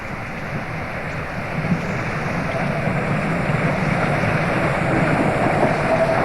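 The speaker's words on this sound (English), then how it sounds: "The train has arrived back at Bacchus Marsh and the end of the line for the South Australian engine." South Australian Railways steam engine SAR 621 on a 1994 run into Victoria, arriving at Bacchus Marsh station: a steady, loud rumbling roar of the train rolling in, continuous throughout with no talk.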